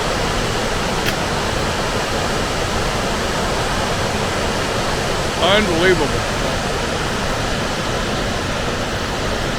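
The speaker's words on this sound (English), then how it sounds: "This truly is an amazing waterfall." Cumberland Falls roars as a steady, dense wash of falling water throughout, with one brief exclamation from a nearby man partway through.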